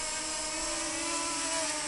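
A DJI Mini 2 drone flies in windy conditions, its propellers giving a constant high-pitched whine with a steady tonal buzz, unbroken and without voices.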